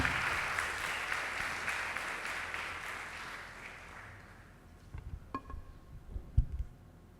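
Applause for speaker Renata Dias at a conference, a dense round of clapping from the audience that gradually thins and fades, followed by a few scattered clinks and knocks.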